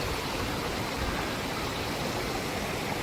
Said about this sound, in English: Just a random stream.